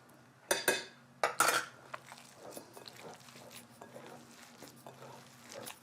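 A meatloaf mixture with ricotta being mixed by hand in a bowl: a few sharp knocks at the start, then soft, wet squelching and patting close by, with no voices.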